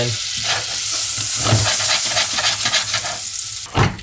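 Butter, about 20 grams, sizzles and crackles steadily in a hot pan on the stove, with a stirring utensil scraping and clicking against the pan throughout, no voices.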